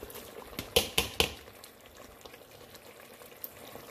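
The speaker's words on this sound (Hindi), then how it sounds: "अब हम इसमें डाल के भूनेंगे।" Lamb liver masala sizzles in a pan, a soft steady crackle with a few sharp clattering strikes near the start, fairly faint and without voices.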